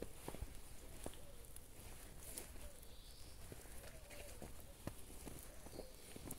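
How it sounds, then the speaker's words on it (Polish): Spring birdsong outdoors, with faint scattered chirps and short whistled phrases over a quiet, noisy background, distant and soft, with a few small taps and rustles. "Pięknie ptaszki śpiewają."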